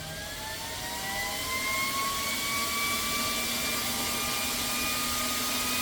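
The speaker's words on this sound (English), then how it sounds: "And go ahead and kick the fan on." Cooling fan on a Spritech 4500 PSI PCP air compressor spins up, its steady airy whoosh and rising whine climbing gradually in pitch and growing louder before holding a constant roar, with no talk over it.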